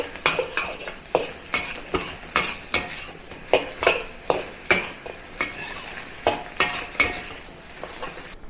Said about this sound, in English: And also the broccoli stem back to the wok. Mix with the rice.